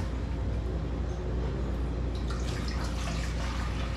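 Tap water runs steadily into a pot being filled for boiling spaghetti, a continuous close splashing that grows brighter and more gurgling partway through.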